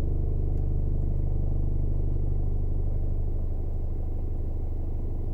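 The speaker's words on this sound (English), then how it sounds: "There's also a car coming" A car goes past on the road during a driving lesson, a steady low engine and tyre rumble that stays fairly loud the whole time, with no talking.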